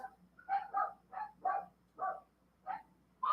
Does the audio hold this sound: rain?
no